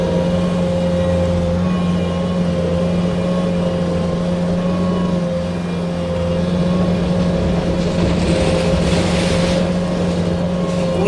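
A 2019 Bobcat S650 rubber-tired skid steer works with its boom raised, its engine holding a loud, steady, close drone for several seconds while a hiss of hydraulics or air rises near the end, with no talk.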